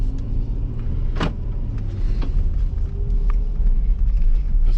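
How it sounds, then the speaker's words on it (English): Car driving down a street at night, a continuous low interior road rumble with a few faint knocks and a short brighter rustle partway through. "I'm just gonna drive here"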